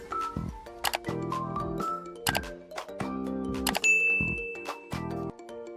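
Bright notification bell dings and short chimes sound repeatedly in a quick, jingly sound-effect sequence, clear and close, with no talking over them.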